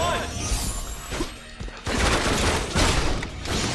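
Gunfire in the game PlayStation All-Stars, rapid bursts of shots and crashing impacts amid chaotic fighting noise, loud and close over a busy game mix.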